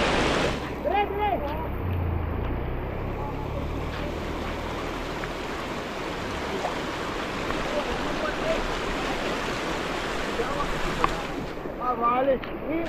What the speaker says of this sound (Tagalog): Ang lakas ang agos oh.